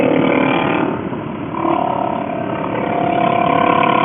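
Motorcycle engine droning steadily at moderate speed while riding on mountain roads, loud and continuous with slight dips and rises in throttle, with wind noise and no talk.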